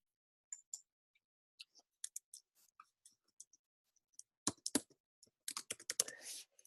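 Keys on a computer keyboard clack in sparse, irregular taps that speed up into quicker bursts near the end, close and clear against silence.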